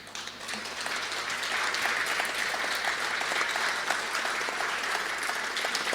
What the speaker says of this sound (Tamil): பலமாக கைத்தட்டுவோம்.